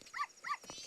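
A dog in Zelda: Majora's Mask 3D gives two quick, close barks in rapid succession, followed by a brief noisy shuffle.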